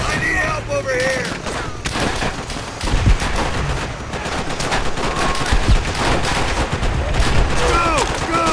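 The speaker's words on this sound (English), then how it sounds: "Enemy machine gun!" Sustained machine gun fire and scattered gunshots in a Call of Duty: World at War battle, loud and dense, with bursts rattling throughout alongside booms and shouting soldiers.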